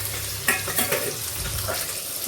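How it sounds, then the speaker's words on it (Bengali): Rohu fish pieces frying in a pan give off a steady close sizzle, with a few scraping stirs and clinks from the cooking utensil. "এখানে মাছটাকে ভেজে নিচ্ছি রুই মাছ"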